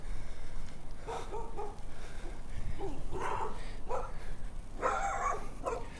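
Several dogs bark in scattered bursts, some sharp yips and higher whines among them, sounding moderately distant over a steady background hum.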